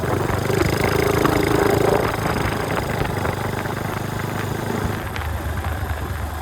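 The engine of an Icebear Champion 125cc CT70 clone motorbike drones loudly and steadily while riding, easing slightly in pitch through a downshift, with no talk over it.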